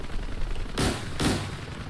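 Gunfire in the DCS UH-1 Huey helicopter combat video game: two loud, sharp, booming shots about half a second apart, standing out over a steady background hum.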